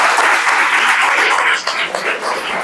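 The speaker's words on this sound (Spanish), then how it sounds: "Otro aplauso, por favor." An audience applauds continuously through a Spanish-language interview show, a dense, steady clapping that stays loud throughout, then thins and softens slightly toward the end.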